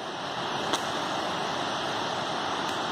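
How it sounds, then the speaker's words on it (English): Steady broadband rush of a river's flowing water, constant and fairly close, with a faint wind-like hiss and no talking. "This is the river we take RBG."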